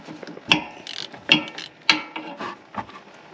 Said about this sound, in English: plug on the bottom is a 17 millimeter.